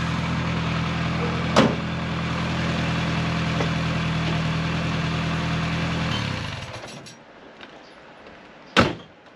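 A restored Fiat 600 engine idles steadily in a low, even hum for about six seconds, then shuts off, with a sharp knock near the start and a louder clunk, like a door or panel, near the end.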